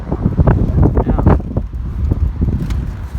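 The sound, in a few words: wind blowing outdoors on a roof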